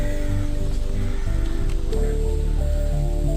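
Strong wind blows through a small deserted market near the Hinglaj Mata temple in Bhanpura, a loud continuous rushing roar with no pauses, sounding close and covering the whole stretch.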